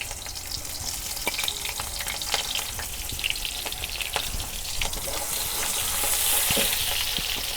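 Chopped onion frying in a pan hisses and sizzles steadily up close, scattered with small crackles and pops, and swells slightly louder toward the end.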